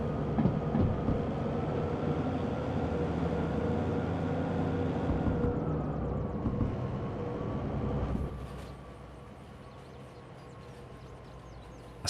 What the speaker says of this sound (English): I still can't see the back of the train.